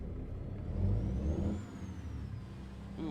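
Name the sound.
truck engine revving, Cummins, in American Truck Simulator video game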